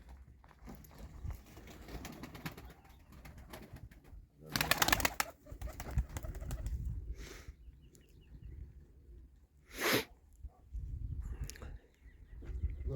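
Outdoor ambience with pigeons cooing and flapping, a few louder bursts of wings or movement standing out against steady low background noise.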